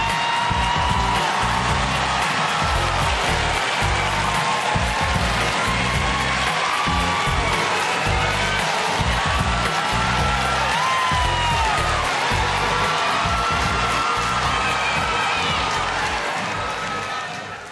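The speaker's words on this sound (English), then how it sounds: "as Miss Virginia begins her catwalk, the crowd goes wild" At a plus-size beauty pageant, an audience cheers wildly and claps as a contestant walks the catwalk, a loud, sustained roar of crowd noise with whoops over pounding music throughout.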